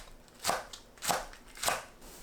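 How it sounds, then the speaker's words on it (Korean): Green onion sliced diagonally with a knife on a cutting board, three crisp evenly spaced chops, close and quiet against a hushed background. "파를 어슷 썰어주세요."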